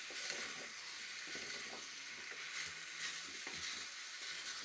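Seared beef and vegetables for a Japanese beef curry crackle faintly in a pot, a soft steady sizzle with occasional scraping stirs.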